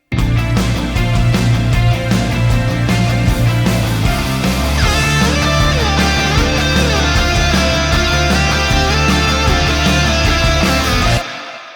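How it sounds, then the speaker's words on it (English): A full-band 80s AOR-style rock backing track with steady drums, bass and bright keyboards or guitars, playing loud and continuous before stopping abruptly near the end. "What you see here is my 80s AOR style jam track project"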